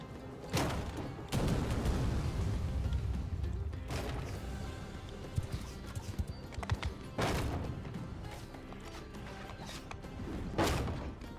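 Horse hooves clip-clop steadily in a Mount & Blade II: Bannerlord game soundscape, mixed with loud thumps and bursts of battle noise during a siege.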